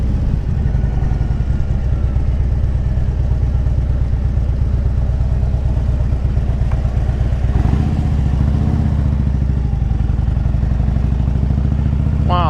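A 2010 Harley-Davidson Street Glide Ultra rumbles steadily with a deep, loud, throbbing engine note as it is ridden slowly and cautiously, the pulsing exhaust continuous and close throughout.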